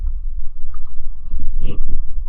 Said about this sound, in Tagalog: Tumatakbo yung bangka eh